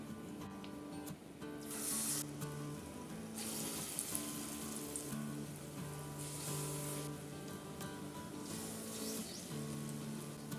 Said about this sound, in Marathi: इथे मी वडा बनवून घेतलेला आहे आता आपल्याला अशा प्रकारे तेलामध्ये सोडायचं आहे